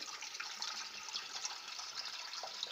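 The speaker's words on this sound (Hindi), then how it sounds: "इसके अंदर मैं पानी डालूंगी।" Water pours steadily into a pressure cooker holding meat in a continuous splashing stream, fairly quiet and close, with no voices.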